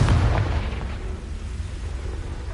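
A Confringo fire-blast spell explodes in the Hogwarts Legacy video game, with a single loud, deep blast at the start that rumbles away over the next two seconds.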